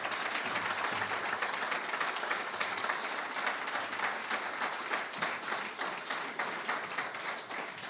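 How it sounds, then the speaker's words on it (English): Sustained crowd applause at a foodie websites award ceremony, many hands clapping in a thick, even wash that begins to thin and become more rhythmic toward the end. "A round of applause."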